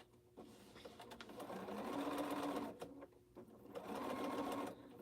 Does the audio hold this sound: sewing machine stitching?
yes